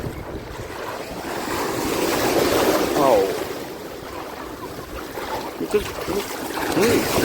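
Sea waves wash and roll onto a beach while strong wind buffets the microphone, with faint voices in the background.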